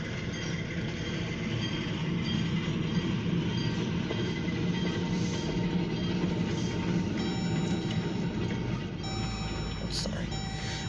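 An OC&T tanker freight train, some cars snow-covered, rolls past in a steady broadband rumble with faint metallic clinks and squeals, while people talk nearby.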